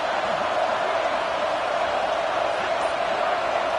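Stadium crowd roaring in a football video game as fans get behind the defense on a big third down, a dense, steady wall of cheering and noise at loud, constant volume.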